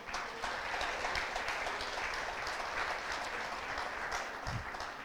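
A church congregation applauds steadily during a sermon, a dense, even wash of clapping that holds for several seconds with no break.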